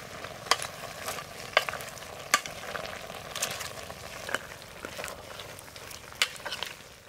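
Freshly washed mango leaves go into a simmering mutton head curry, bringing a soft, faint sizzle and bubbling with a few sharp clicks and light stirring taps scattered throughout.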